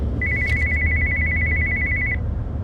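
A telephone rings with a single continuous electronic trill lasting about two seconds, clear and close over a low background hum.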